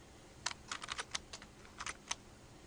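Quick bursts of keystrokes on a computer keyboard as data is entered into statistics software, arriving in short irregular clusters with pauses, close and fairly quiet, no talking.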